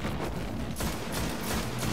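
Arc weapon fire in the video game Destiny, a dense continuous barrage of crackling, booming shots filling the whole stretch without a break, loud and close with no talking.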